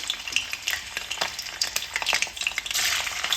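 Prawns for fried rice fry in a hot pan with a close, steady sizzle and crackle, broken by brief stirring scrapes and growing louder and denser toward the end, with no voices.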